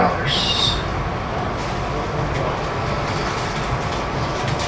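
Steady rumble of a passenger train on the Western Maryland Scenic Railroad rolling along the rails, continuous and fairly loud, with a faint voice mixed into the noise.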